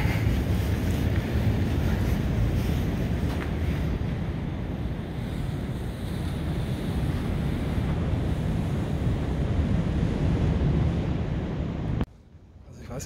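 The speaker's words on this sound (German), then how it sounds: "Diese Windgeräusche, diese Atmosphäre" Wind roaring across an abandoned colliery site during urban exploring: a loud, steady, rushing noise with no let-up, ending in an abrupt cut near the end.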